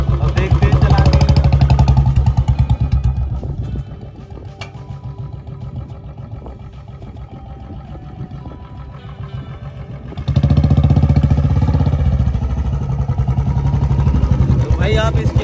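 A Royal Enfield Bullet Electra 350 single-cylinder motorcycle engine thumps steadily at idle, loud and close, settling lower in the middle before picking back up.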